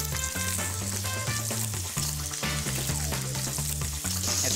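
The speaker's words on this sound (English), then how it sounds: "Nice sizzling heat." Loud, continuous sizzling of scallops searing in butter in a hot frying pan, crackling and spitting close up, with a steady droning hum underneath.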